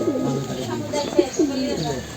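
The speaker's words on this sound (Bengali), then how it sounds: "এটা হইল সবজি কবুতর একটা" A sobji pigeon coos a few soft, rolling calls close by, with someone talking over them in a pigeon loft.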